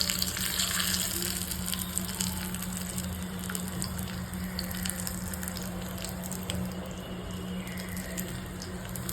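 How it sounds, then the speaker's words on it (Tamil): Soya chunks and rice frying in ghee in a pan, a constant soft sizzle with a steady low hum beneath and occasional crackles, heard up close without talk. "நான் இதை நல்லா நெய்யில் வறுக்கிறேன்."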